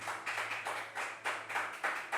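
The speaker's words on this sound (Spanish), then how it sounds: "dale ese fuerte aplauso al Señor en este maravilloso tiempo" Church congregation clapping during a Sunday service, a steady rhythmic pattern of group claps in bursts about every half second, moderately close with a faint low hum underneath and no voices.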